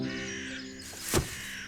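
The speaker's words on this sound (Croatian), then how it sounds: "O, draga Dorice, vranama se stvarno sviđa tvoja salata." A single crow caw rings out near the end of a short cartoon village scene, brief and fairly close, over a soft sustained tonal background.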